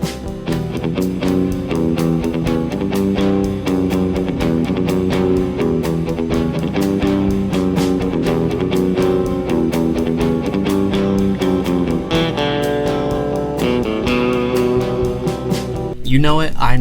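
A four-note electric guitar riff from 1962, full-band music playing loud and steady throughout, guitar lines over a dense backing with brass-like swells near the end.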